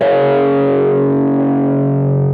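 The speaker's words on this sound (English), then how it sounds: "when you put distortion behind it, it actually sounds bigger than it really is" A distorted electric guitar power chord of only two notes rings out alone, loud and thick, sustaining for about two seconds and slowly fading with no talk over it.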